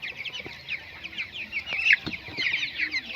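Young chickens on a poultry farm, about nineteen days old, cluck and chirp in a continuous busy chorus of short, repeated calls, moderately quiet, with no talking.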